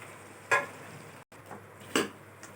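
Spices being stirred with potatoes frying in a pan, a soft sizzle underneath two distinct scraping stir strokes, close and quiet with no talk.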